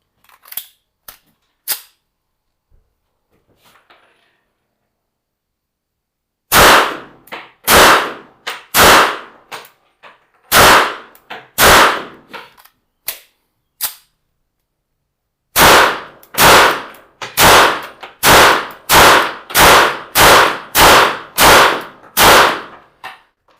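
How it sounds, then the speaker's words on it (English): Sphinx 3000 pistol fired at a range: after a few sparse early shots, a series of loud, sharp gunshots comes in quick bursts, close and crisp, with short silent gaps between groups. "I want to load a bit more and shoot again because I'm finding a lot of positive things in this gun."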